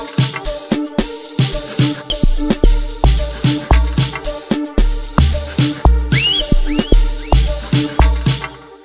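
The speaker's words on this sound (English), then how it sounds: "I'm going to show you what I do when I'm making my log drum" An amapiano groove plays with a punchy, booming log drum bass hitting in syncopated bursts beneath crisp percussion and short synth stabs, loud, close and dry.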